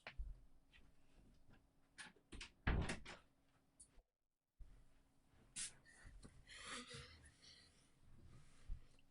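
An indoor door moves and knocks shut during a home live stream, heard as a few faint, scattered thumps and bumps with a brief silent gap between them.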